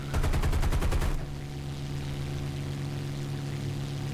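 Aircraft machine guns on a P-51D-5 fighter in War Thunder fire one loud rapid burst of about a second, then cut off leaving the steady drone of the engine humming alone.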